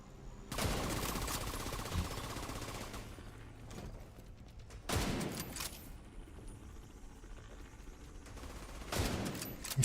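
Automatic gunfire in the shooter The Division 2, three separate bursts of rapid shots separated by quieter stretches, moderately loud against a low game background.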